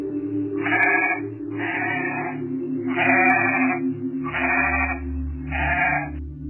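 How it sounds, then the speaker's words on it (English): An Angora goat bleats in five drawn-out, wavering calls, evenly spaced and loud, over a steady low droning background. "Angora goat."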